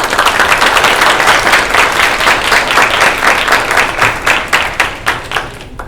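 Audience at a school board meeting applauds in one round, a dense patter of many hands clapping loudly that thins toward the end.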